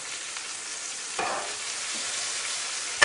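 Pumpkin pickle mixture with black pepper and salt cooks in a pan, giving a steady gentle sizzle with a stirring swish midway and a sharp clack at the end.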